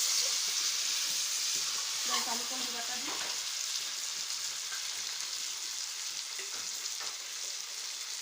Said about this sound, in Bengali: এবার কুমড়া দিয়ে আর অল্প ফ্রাই হবে।